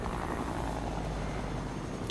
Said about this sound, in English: let's just stay on this helicopter